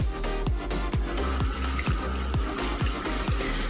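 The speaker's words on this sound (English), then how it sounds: "You're straining because you want to get all of this thick bean juice out of it. And we're gonna go ahead and rinse them as well." Canned black beans being rinsed under a running kitchen tap, a steady wash of water with rhythmic soft knocks from the strainer or can every half second, close and alone with no talking.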